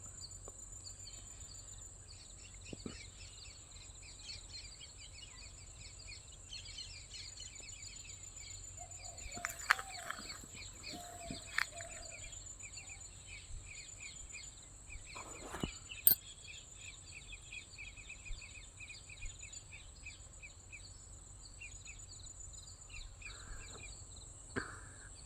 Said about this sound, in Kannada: ನಿಮಗಿಲ್ಲೆಲ್ಲ ಅಕ್ಕಿ ಪಕ್ಷಿ ಸೌಂಡ್ ಕೂಡ ಕೇಳಿಸ್ತಾ ಇರುತ್ತೆ